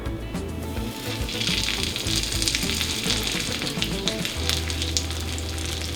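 Vegan salmon fillets sizzle skin side down in a hot skillet, a loud, close, crackling fry that holds steady throughout.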